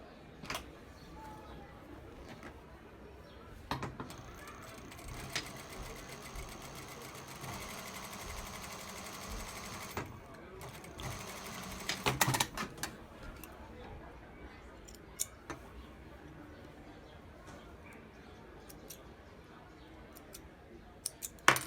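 A sewing machine stitches a skirt waistband in a quiet room, running steadily in close-up for several seconds. It stops for a moment, starts again, then falls silent, leaving faint ticks and handling sounds.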